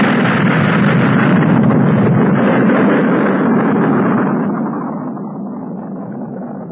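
A rocket launch effect in a planetarium show: a loud, broad roaring rumble that holds steady, then gradually fades and darkens as the craft climbs away.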